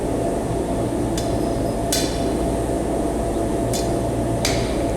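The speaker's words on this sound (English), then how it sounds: "This is done with a hammer." A few sharp metallic strikes of a hammer forging stainless steel into a spoon scoop, widely spaced and ringing briefly, over a steady loud background hum.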